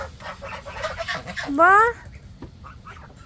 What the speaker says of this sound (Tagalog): pipuntahan naman natin itong mga manok na matatapang